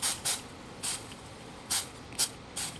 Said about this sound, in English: I'm going to spray the water